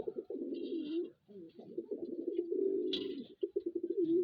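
A newly acquired male pigeon coos in a continuous throaty, rolling run with brief breaks, soft and close, with a faint chirp or rustle above it.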